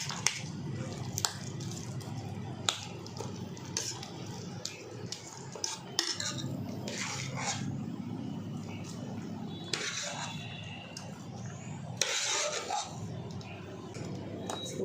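Dal is stirred in a cooking pot, with repeated metallic clinks and scrapes of a ladle against the pot and scattered sharp taps over a low, busy kitchen background.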